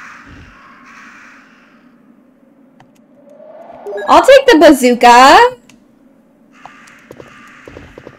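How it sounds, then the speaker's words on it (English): Crows cawing in the Resident Evil 1 game, a burst of several loud harsh caws in quick succession, preceded and followed by a person talking and faint game ambience. "Get away from the crows. Don't let them peck you to death."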